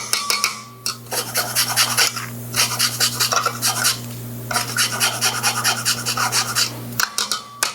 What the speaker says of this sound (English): Put a little bit of key lime zest, just to brighten the flavors a little bit.